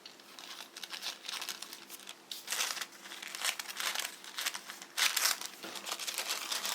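Paper crinkles and rustles up close as a square is cut out for a paper piñata, with irregular crisp crackles and short snips, fairly quiet and without voices.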